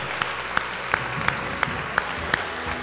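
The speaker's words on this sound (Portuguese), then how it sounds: "dá uma salva de palmas para Deus" A church congregation claps in a slow, even rhythm, about seven crisp beats spaced evenly over a few seconds, above a low background murmur.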